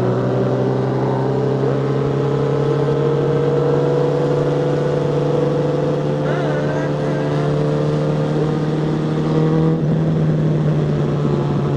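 A group of motorcycles riding together on the Fernão Dias highway, a loud continuous engine drone with steady low hum and wind rush throughout, a slight shift in pitch near the end.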